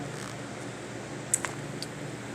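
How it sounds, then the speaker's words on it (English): A steady fan and the distant drone of an outdoor leaf blower form a constant low wash of background noise, with a few faint clicks on top. "Please excuse the fan and the blowing and all that background noise."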